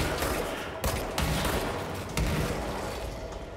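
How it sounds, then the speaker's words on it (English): In the video game Control, loud, continuous explosions and gunfire fill the clip, a dense wall of blasts with a few sharper bangs standing out. "Okay. Explosions."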